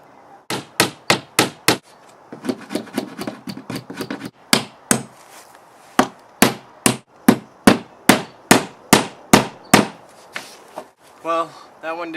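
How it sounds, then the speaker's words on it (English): Used, slightly bent nails are hammered into wood while building a chicken coop, with sharp, close hammer blows coming in quick regular runs and short pauses, mixed with quieter taps and handling noise. "If they have a slight bent in them already, the more you hammer them, the more bendy they get."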